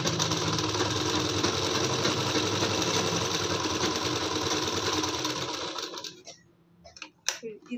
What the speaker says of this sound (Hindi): अब मशीन में इस तरीके से हाफ हाफ इंच पकड़ते हुए सिलाई